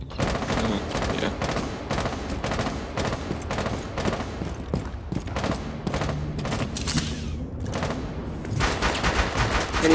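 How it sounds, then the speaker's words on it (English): Dense gunfire in Rainbow Six Siege, with rapid overlapping shots and bursts aimed at windows, loud and close throughout, while faint voices talk underneath. "Can you stop shooting at the fucking windows?"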